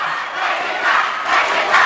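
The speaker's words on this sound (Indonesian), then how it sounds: "Kami persilakan beri tepuk tangan yang meriah untuk paslon nomor urut 1 dan nomor urut 4." Audience at an Indonesian election debate for regional candidate pairs bursts into loud crowd cheering and shouting with applause. The sound is a dense, sustained roar that swells toward the end.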